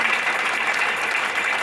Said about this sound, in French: Acclame très fort Jésus-Christ